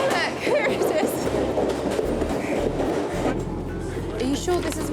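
Train pulling into a station platform, with a continuous low rumble and rail clatter over background noise as the train arrives.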